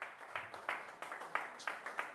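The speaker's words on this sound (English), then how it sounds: "Just put your hands together for yourselves." A small audience at a post-NYSC career readiness event claps for themselves, a sparse run of distinct, uneven hand claps with gaps between bursts, fairly quiet and slightly distant.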